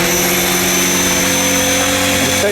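Align T-Rex 500X RC helicopter on its maiden flight in windy conditions, giving a steady loud rotor and motor whine with a constant high-pitched tone, close and continuous without talk.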